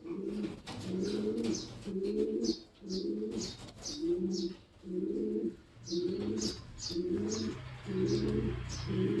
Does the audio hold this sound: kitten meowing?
no